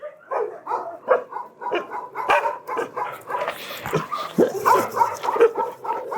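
Many dogs at an animal shelter housing around 450 animals bark nonstop, with overlapping woofs, sharp yips and occasional whimpers, loud and close.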